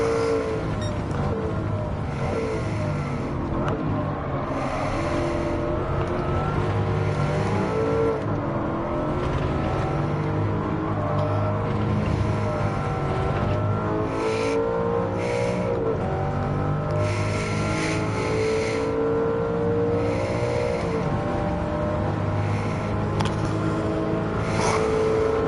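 Race cars in Gran Turismo 7 on the Monza circuit run three wide through the Parabolica, a Lamborghini Countach among them. Engines rev and shift continuously at moderate loudness, with pitch rising and dropping through gear changes.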